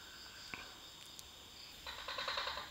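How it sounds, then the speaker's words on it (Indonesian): A tokek gecko calls at night on the grounds of Keraton Macan Putih in Banyuwangi, a burst of repeated clicking croaks off to the left over a steady hiss of night insects. "ada suara tokek barusan di sebelah kiri"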